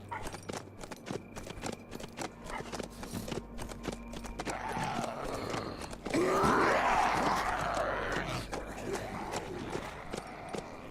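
Rhythmic hoofbeats of a horse moving at pace in the video game HumanitZ, with snorts and heavy breathing, growing louder midway, set against ambient game sounds.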